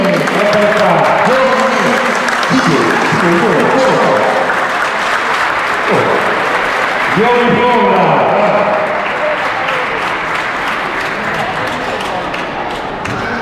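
A crowd of young people claps loudly and continuously at a shopping-centre audience contest, with the applause staying dense throughout while a voice speaks and calls out over it.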